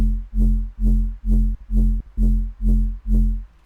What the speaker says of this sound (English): So that gives me a pretty clean and fat sub.